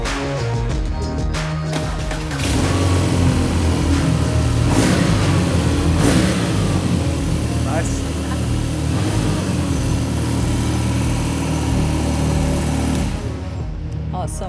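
A BMW R nineT motorcycle's boxer engine starts and revs, a loud, steady mechanical roar with a few rises in pitch, close by, lasting through most of the stretch before cutting off near the end.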